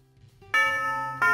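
A school bell rings in the Katawa Shoujo visual novel, a bright chiming tone that starts abruptly partway through, sustains, then strikes again near the end, loud over a quiet background.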